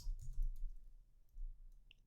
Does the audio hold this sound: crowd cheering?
no